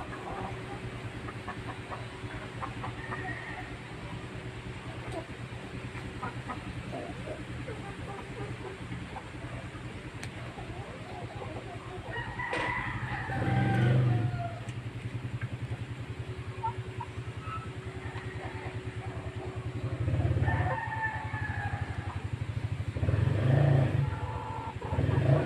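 Chickens on a poultry farm in cold weather give occasional faint clucks against a steady low engine hum, with a few louder calls in the second half.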